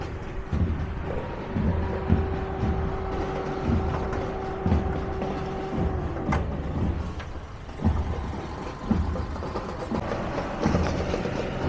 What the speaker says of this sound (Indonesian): Jadi teman-teman bisa dengar sendiri suara irama mesinnya ya.